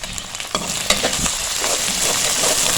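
Ginger-garlic paste and a split black cardamom frying in a pan while a spoon stirs them, giving a steady close sizzle with a few scraping clicks and no talking.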